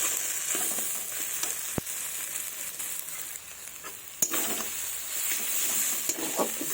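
Potato pieces sautéing in a pan give a soft, steady sizzle with faint scraping stirs and a couple of sharp clinks of a utensil against the pan, fairly quiet and without talk.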